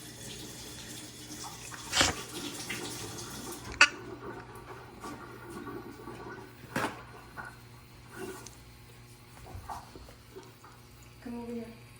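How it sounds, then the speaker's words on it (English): Green onions being washed under a running kitchen tap, with a steady hiss of flowing water broken by a few sharp clinks and knocks near the sink. "I'm going to go back here and clean up my green onions, wash it"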